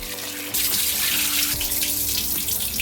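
Tap water runs steadily into a pot of raw rice being washed before soaking for a country-chicken biryani made in a pressure cooker. The flow starts abruptly after a short pause and continues loud and close, with no talk.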